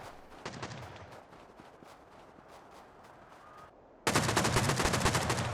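Gunfire during a large rocket-launcher raid in the video game Rust, with clans battling raiders: scattered shots crackle at first, then a loud, dense burst of rapid fire erupts and continues to the end.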